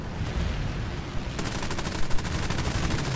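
Aircraft machine guns firing in the War Thunder air combat game, a fast continuous rattle of shots over loud engine roar that takes over midway and stays dense to the end.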